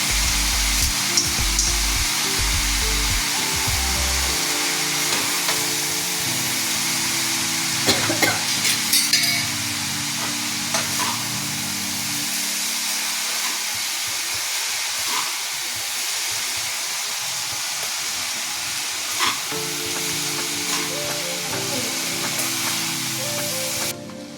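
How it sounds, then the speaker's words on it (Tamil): Vegetable noodles tossed and stirred in a hot pan, a steady broadband sizzle and scraping rush running throughout with low rhythmic thumps early on. "அடுத்து நம்ம நூடுல்ஸ் போட்டு டாஸ் பண்ண வேண்டியதுதான்."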